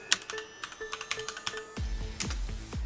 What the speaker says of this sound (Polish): I wpisujemy następujące polecenie.